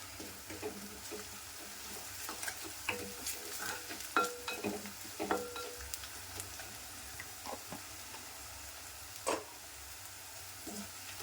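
Ginger garlic paste and turmeric sizzle softly in a pan, with quiet scraping and stirring clicks over a low steady frying hiss, and no talking.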